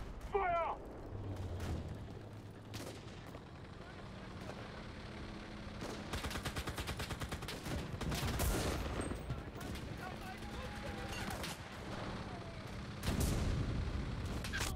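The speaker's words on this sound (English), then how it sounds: "Artillerie, fire!" Artillery and small-arms fire during a Normandy battle in the game Enlisted, with repeated booming impacts and rattling bursts of rapid gunfire, loud and near, mixed with mechanical clatter and brief talk.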